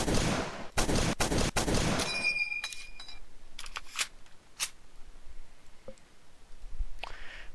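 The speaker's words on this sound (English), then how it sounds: "The Garand, which of course has its iconic ping." M1 Garand rifle fire in a video game: a rapid string of sharp close shots ending in a bright ringing clip-eject ping, followed by scattered mechanical clicks and clacks.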